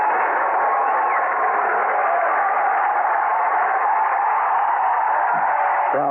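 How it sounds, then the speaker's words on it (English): A baseball crowd at a 1998 Chicago Cubs vs St. Louis Cardinals game stands, cheering and applauding: a steady, unbroken roar heard through a thin, narrow-band radio broadcast. "Crowd comes to a feverish pitch. They're on their feet, standing, applauding."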